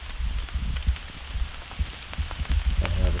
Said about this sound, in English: Starting to rain now.